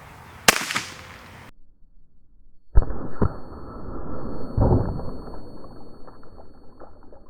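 A big-bore airgun cracks sharply once, a second shot follows after a short silence, and then a target bursts with a noisy, scattering thump amid rustling.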